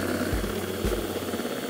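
An electric mixer whips meringue in a bowl with a low, steady droning whir like a distant helicopter, broken by two short thumping bumps early on, fairly quiet and without talk.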